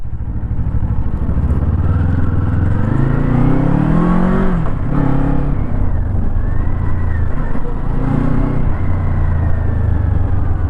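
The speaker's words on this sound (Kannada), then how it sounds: "ಸೊ ಗಾಡಿ ಈ ಥರ ರೈವ್ ಆಗುತ್ತೆ ಗಾಡಿ." A 2024 Kawasaki Eliminator motorcycle engine revs repeatedly up and down, loud and close, the pitch rising and falling in several throttle blips over a constant running note.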